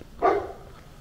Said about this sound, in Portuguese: Cachorros agora.